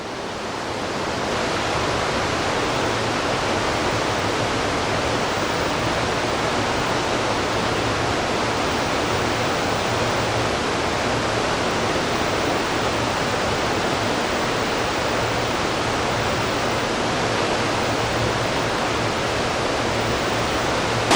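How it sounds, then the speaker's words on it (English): A steady, roaring rush of falling water from a big waterfall on steep, rainy New Zealand coast fills the air, loud and constant throughout, with no talking. "This is a big waterfall behind us."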